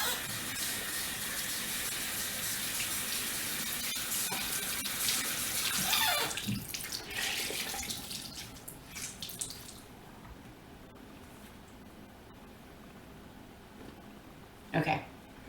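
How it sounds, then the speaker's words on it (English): Warm water runs steadily from a tap into a sink or basin, a loud continuous gush for several seconds that then fades to a quiet trickle, ending with a short splash. "I'm gonna use some warm water"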